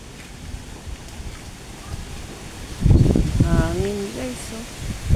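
Wind buffets the microphone in low rumbling gusts, strengthening partway through, and a person starts speaking over it near the end.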